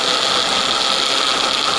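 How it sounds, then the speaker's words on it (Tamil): A kitchen mixie jar grinds cooled mint leaves into chutney, its motor giving a loud, steady whirring drone that holds unbroken for under two seconds, with no voices. "ஒரு மிக்சி ஜாரில் போட்டு அரைச்சி எடுத்துக்கோங்க"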